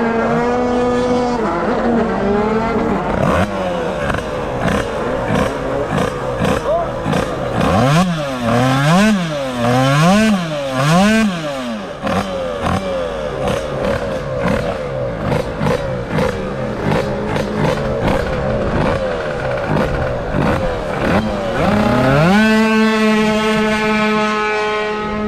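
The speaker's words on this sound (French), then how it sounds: "c'est parti, et c'est libre, premier tir du dragster 100," A dragster race car launching down a drag strip: a loud engine roars and revs, its pitch sweeping up and down through repeated bursts, then climbs steadily as the car accelerates. The sound is sustained and close, with no talk over it.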